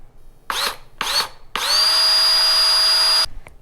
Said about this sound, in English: drill a 1/8 inch pilot hole